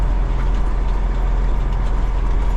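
A continuous deep rumble of a passing freight train, steady and loud with a low mechanical drone and no breaks.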